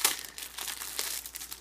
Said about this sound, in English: unwrap it, take it out of the plastic pack, you see.